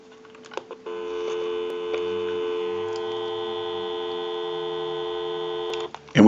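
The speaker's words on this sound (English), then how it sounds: "We'll go ahead and give you some dial tone." A steady telephone dial tone holds on a landline for several seconds, loud and continuous, with brief clicks before and after and no talking.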